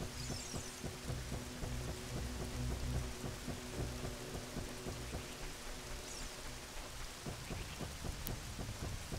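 Steady rain falling in the video game The Legend of Zelda: Ocarina of Time, a continuous hiss with scattered patter and faint low rumbles, alone without any talk.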